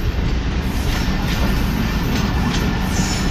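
Karakoram Express railway coaches rolling past, a loud, close, continuous rumble of wheels on track with faint rhythmic clatter and no voices.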